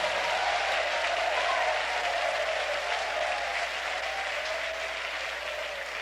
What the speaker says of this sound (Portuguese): Batem palmas e glorifiquem ao Senhor